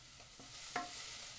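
Onions caramelizing in a pan for onion soup give off a soft, steady sizzle with a few faint ticks and one brief clink, quiet and alone.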